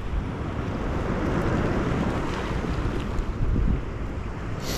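Sea surf rolling onto a Crimean shore during a fishing outing, a steady broadband wash of waves mixed with wind buffeting the microphone, loud and continuous with no talk.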